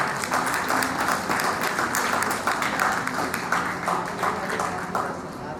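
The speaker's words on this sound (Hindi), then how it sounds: "तो जोर से तालियां बजाएं।" Loud, sustained audience applause at a family awards conference, dense rapid clapping from a large crowd that carries on steadily before easing slightly at the end.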